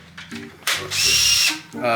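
A wire wheel brush on a grinder scouring metal for a car seat belt mount, a loud, harsh whine lasting under a second, set between short stretches of quieter tool noise and brief talk.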